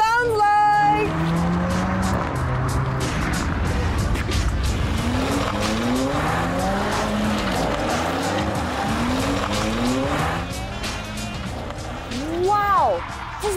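Mercedes-Benz car driving hard, with engine revs rising and falling through several sweeping pitch climbs and tire squeal mixed in, loud and close, with a person speaking over it.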